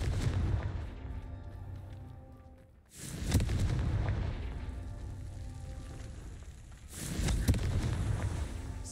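Fiery Confringo spell blasts in Hogwarts Legacy: two heavy booming explosions a few seconds apart, each a sudden loud burst trailing into a rumbling roar, over a constant low background rumble, no talk.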